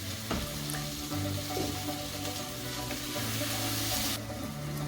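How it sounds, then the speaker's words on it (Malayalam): Onions sautéing in a pan with salt for chicken curry, a steady close sizzle with light stirring scrapes throughout, carrying on without any talk. "അപ്പോൾ ഉള്ളി നന്നായിട്ട് വഴന്ന് കിട്ടാൻ വേണ്ടിയിട്ട് നമുക്ക് അല്പം ഉപ്പ് ചേർത്ത് കൊടുക്കാം."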